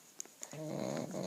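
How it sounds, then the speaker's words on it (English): Dogs growl and bark inside a house, starting with a couple of sharp yips before a sustained, rumbling growl sets in and carries on steadily at moderate loudness. "my dogs are in full force right now"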